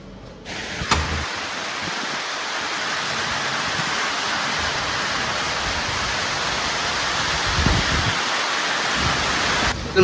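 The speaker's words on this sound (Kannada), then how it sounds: "ಮಳೆ ಗಾಯ್ ಫುಲ್ ನೋಡ್ತಾ ಇರಲ್ಲ, ಸಖತ್ತಾಗಿದೆ ವೆದರ್ ಅಂತೂ." Heavy rain pours down outside a room in Goa, a loud, steady, close hiss that stays even throughout, with a faint low rumble underneath and no talking.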